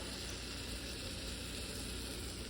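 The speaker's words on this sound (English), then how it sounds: "it's sizzling as I put it in the pan" Steady, dense frying sizzle of a ribeye steak searing in a hot pan, a continuous hiss filling the whole moment without pauses or voices.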